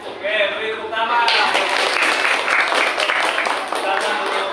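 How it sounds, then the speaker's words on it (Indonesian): A classroom group breaks into applause, a dense wash of clapping that swells after a brief spoken moment and carries on steadily, with voices mixed in. "Oke, beri tepuk tangan."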